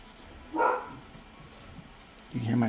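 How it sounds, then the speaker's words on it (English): A dog barks twice from nearby, a short yelp then another bark a couple of seconds later, over low background noise. "You can hear my dog barking."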